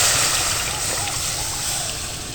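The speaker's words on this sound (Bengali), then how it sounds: "এবার আমি দিয়ে দেবো অল্প একটু জল।" Water poured into a pan of sizzling curry with spiced gourd and paneer, a loud close hiss and splash that tapers slightly over a couple of seconds.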